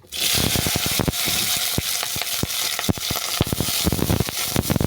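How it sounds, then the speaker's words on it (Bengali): Onion stalks dropped into hot mustard oil, a loud, dense sizzle bursting up at once and holding steady, dotted with sharp spitting pops and crackles close by. "এই তেলের মধ্যে দিয়ে দেবো পেঁয়াজ কলি।"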